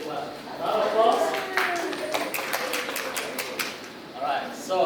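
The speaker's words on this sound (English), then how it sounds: "Round of applause." A small training audience in a negotiation skills workshop gives a brief round of applause, scattered hand claps rising and fading over a few seconds while a presenter keeps talking over them.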